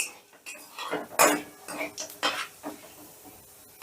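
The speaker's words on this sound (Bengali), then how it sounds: "ফোড়নটা একটু নাড়াচাড়া করে নেব গ্যাসের আঁচটা লোতে রেখে" A utensil scrapes and clinks against a pan while whole cumin seeds are stirred over low gas heat, producing irregular taps and scrapes, close and fairly quiet.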